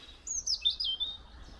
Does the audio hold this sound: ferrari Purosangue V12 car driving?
no